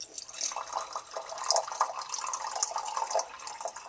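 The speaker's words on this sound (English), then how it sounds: "let's pour the water into the fill line" Water is poured into the reservoir of a Keurig coffee maker in a hotel setting, making a steady, close, trickling stream with gurgles that lasts several seconds.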